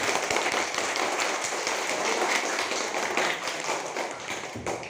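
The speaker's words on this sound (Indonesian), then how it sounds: "tepuk tangan untuk Wanda Susan yang berani maju" A classroom full of students applauds a pupil, with steady, dense, pattering clapping that fills the room for several seconds and fades slightly toward the end.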